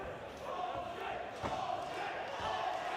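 A crowd at a BMF kickboxing bout between Danny Missin and Jack Holt keeps up a steady, loud roar with shouts and cheers throughout.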